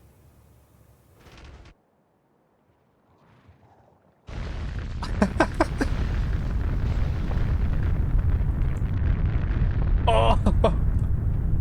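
In a factory-building video game, artillery fires, followed by a sudden loud sustained blast of explosions and crackling debris that continues to the end. Before it there is quiet, and a person briefly exclaims.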